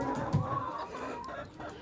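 Layer hens in a hot layer chicken farm house cluck softly, with short low calls over a murmuring background of the flock and a brief voice.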